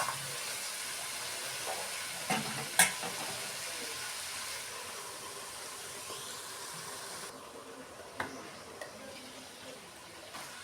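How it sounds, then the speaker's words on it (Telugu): Onions and garlic sautéing in a pan make a soft, continuous sizzle, broken by a few brief clatters of stirring. "ఉల్లిపాయ ఎల్లుల్లిపాయ వేసిన తర్వాత ఇంకా ఎక్కువ మగ్గాల్సిన లేదు."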